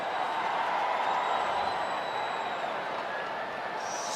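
A sold-out crowd at Dodger Stadium during a Giants versus Dodgers baseball game fills the background with a steady, distant murmur and faint cheering, while a broadcaster talks over it.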